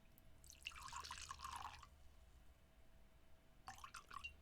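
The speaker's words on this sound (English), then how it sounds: "This cocktail calls for brandy. I'm going to aim for about 2 ounces of brandy." About two ounces of brandy poured into a rimmed cocktail glass, two short, faint trickling pours separated by a pause.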